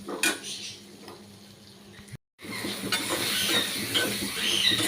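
A utensil scrapes and clatters against a pan while onions are stirred for a chilli paneer dish, with a soft sizzle underneath; a brief gap of silence splits the clip, then louder stirring resumes.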